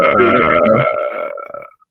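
One long, loud burp into a podcast microphone, close and drawn out before it trails off into a few ragged gurgles.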